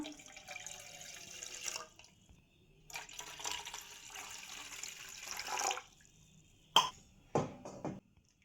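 Water pours and splashes into a cooking pot in two longer runs, about two tumblers' worth, then a few short splashes and drips, fairly quiet and close.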